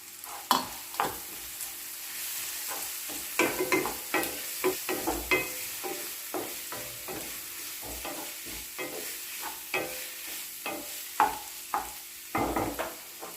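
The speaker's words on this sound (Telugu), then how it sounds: "ఇందులో అల్లం వెల్లుల్లి పేస్టు పసుపు వేసుకొని అంతా కలుపుకోవాలి" Ginger garlic paste and turmeric are stirred in hot oil for okra fry: a soft sizzle under frequent rhythmic spatula scrapes and taps, close by with no talking.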